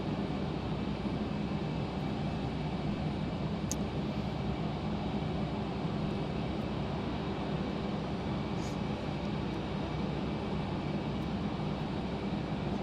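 Airliner, such as a 737, at foggy Denver International Airport, a steady distant engine roar that stays even and continuous throughout, with no talking.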